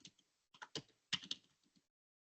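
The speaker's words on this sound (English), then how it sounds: "when I type in a question" A question being typed on a computer keyboard, a few short clusters of quiet, close keystrokes separated by pauses, faint and isolated with no talking.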